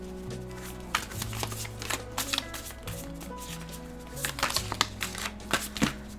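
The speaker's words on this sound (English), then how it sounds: "So we're going to start off with the tarot cards." Tarot cards shuffled by hand in a quiet room, a run of crisp riffling and slapping bursts repeating close up, with soft background music and almost no talking.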